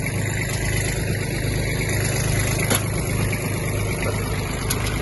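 A Kubota GB-20 Japanese mini tractor idling, its engine running in a smooth, even, close-up chug that stays at a constant loud level throughout with no voices.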